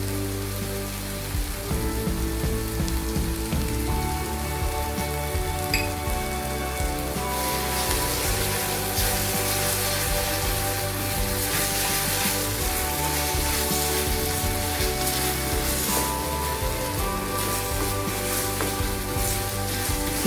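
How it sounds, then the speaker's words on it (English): Oil poured into a hot kadai sizzles and crackles steadily while butter palak paneer cooks, a dense, continuous hiss that grows brighter partway through and carries on without any talking. "I'm adding the remaining oil here."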